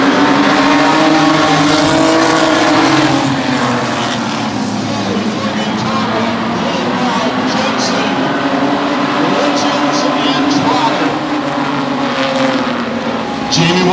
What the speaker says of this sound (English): George Jensen moves up in the 25 car